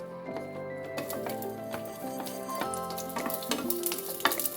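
Onions fry in hot olive oil for a sweet and sour shrimp dish, a soft, steady sizzle with stirring clinks and scrapes, plus faint tonal hum in the background.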